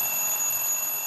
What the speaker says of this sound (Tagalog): Alarm mo yan, oh.